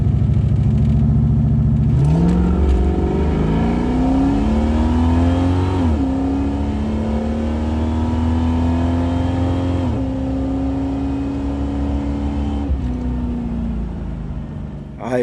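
A Buick Regal on drag slicks accelerates hard down a drag strip, its engine rising through several gear changes in a loud, continuous roar that stays close and steady for the whole run.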